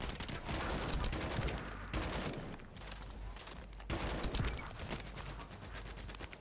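Continuous bursts of rapid gunfire from a tactical rifle in The First Descendant video game come in heavy volleys, broken by two short gaps. The shots sound loud and dense, with no voices.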